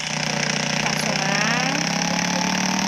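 A motorcycle engine running steadily at close range as it is ridden into a garage to park, a loud continuous buzzing drone with no clear speech over it.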